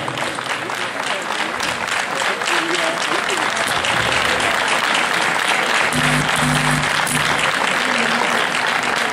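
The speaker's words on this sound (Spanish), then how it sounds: "Fuerte aplauso para todos ellos." An audience gives loud, sustained applause after a bolero dance performance, dense clapping filling the whole stretch with a voice calling out over it near the end.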